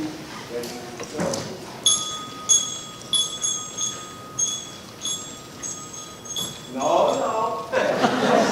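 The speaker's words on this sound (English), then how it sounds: "percussion section will demonstrate on their bells what this rhythm sounds like on the 4th beat with 8 notes" A school band's percussion section strikes bells in a repeated metallic pattern during a district band session at a high school, ringing clear, evenly spaced notes with talk and room noise before and after.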